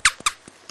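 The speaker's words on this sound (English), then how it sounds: "we got a squeaky tail." A Free Willy plush toy's squeaky tail gives two sharp squeaks in quick succession, followed by fainter softer squeaks, close and alone.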